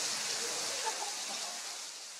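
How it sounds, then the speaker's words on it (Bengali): Heavy rain pours steadily at a cricket stadium in Bogura, a dense, even hiss with no pauses. The sound is fairly faint and has no clear talk over it. "অঝোর ধারায় ঝরছে বৃষ্টি"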